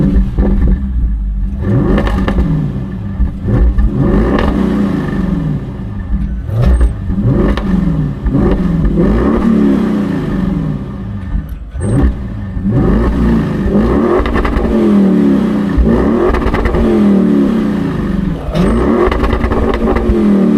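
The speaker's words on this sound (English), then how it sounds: "Let's take a listen to that mighty exhaust." Exhaust of a 2017 Audi RS6 C7 revving hard, with repeated rising and falling rev sweeps and a deep, loud roar throughout, heard up close with no talking.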